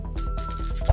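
A bicycle-style bell sound effect rings in a quick, bright double ding, loud and alone.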